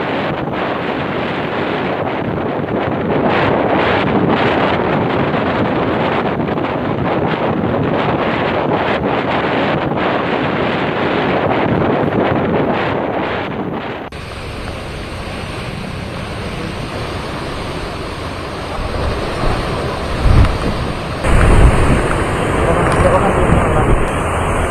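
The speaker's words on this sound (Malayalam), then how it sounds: "രാമേശ്വരം ഉൾപ്പെടെ തമിഴ്നാടിന്റെ തെക്കൻ തീരപ്രദേശങ്ങളിൽ കാറ്റും മഴയും തുടരുകയാണ്." Cyclone wind and rain lash the Rameswaram coast on the southern Tamil Nadu shore, with loud, steady wind roar buffeting the microphone, then a shift to softer rushing surf-like noise with a few sharp bumps and a voice under it.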